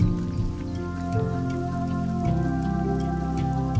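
Rain falls steadily on a mountain hiking trail, a continuous patter with scattered drops under a low, sustained hum, close by and fairly even in level throughout.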